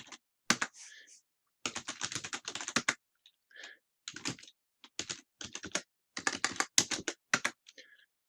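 Rapid bursts of typing on a computer keyboard as terminal commands are entered on a Debian 9 machine, keystrokes clustered in quick runs separated by short pauses, close and clear.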